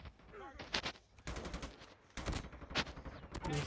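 Gunfire from the Call of Duty Mobile video game, with repeated loud bursts of automatic shots that come close together, with brief gaps between the volleys.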